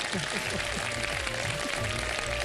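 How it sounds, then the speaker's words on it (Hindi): Studio audience applause fills a live televised iftar show, a dense continuous wash of clapping heard under a host's voice throughout. "तालियां बजाएं"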